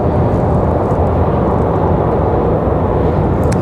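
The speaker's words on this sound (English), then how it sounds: "We've got an American 737 headed out" An American Airlines Boeing 737 jet taxis out for departure at Raleigh-Durham International Airport, its engines giving a loud, steady roar and rumble that runs through the whole clip.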